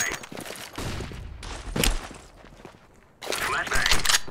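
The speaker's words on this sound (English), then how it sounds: "I'm throwing a flashbang." A flashbang grenade is thrown in Counter-Strike: Global Offensive, with loud bursts of sharp, noisy impact and a bright crackling burst near the end among game sounds and voice.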